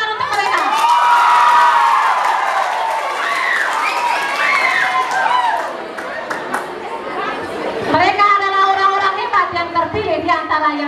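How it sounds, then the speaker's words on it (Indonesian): School debate audience of students cheering and clapping, a loud crowd roar with shouts and chatter that dips midway and then swells again. "Tepuk tangan untuk mereka."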